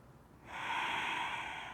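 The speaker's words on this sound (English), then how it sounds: "Let the breath be full, the exhales long." A long, full breath during a restorative yoga posture, swelling into a steady airy rush that holds close and alone without talk.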